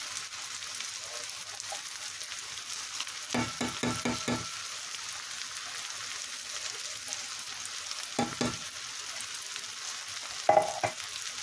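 A spoon stirs coconut milk into a dish in a frying pan, with a soft continuous sizzle and a few clusters of scraping clicks from the stirring, close and moderately loud.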